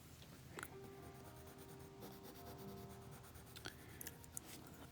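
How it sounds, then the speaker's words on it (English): Prismacolor colored pencils scratch softly and continuously across paper at close range, faint and steady, with no talking. "Okay, these are my Prismacolor colored pencils."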